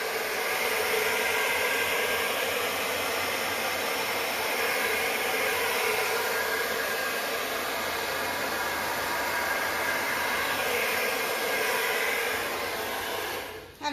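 A hair dryer blows steadily and loudly for the whole stretch, pushing white paint across a Dutch pour acrylic puddle pour, a constant close whoosh that cuts off at the end.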